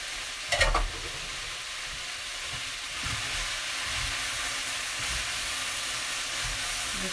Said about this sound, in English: So I'm putting the cabbage in.